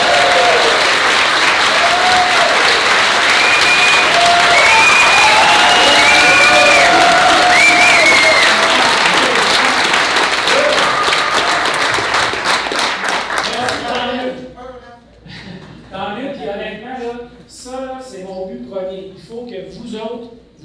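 A convention crowd at a Quebec board-game festival bursts into sustained applause and cheering, loud and dense for about fourteen seconds before thinning into scattered claps, whoops and voices.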